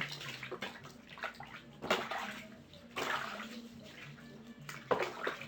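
Running water rinses a foot in a home remedy treatment, with splashing and sloshing bursts over a steady flow, fairly close, no talk.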